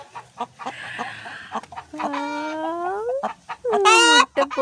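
A hen clucking and cackling after laying her first egg: short clucks followed by long, rising, drawn-out squawks, close and loud, with a final louder cackle near the end.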